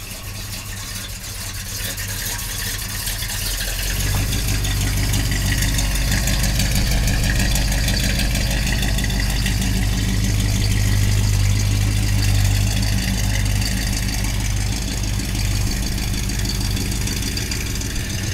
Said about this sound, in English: we're taking our old GMC out for a little drive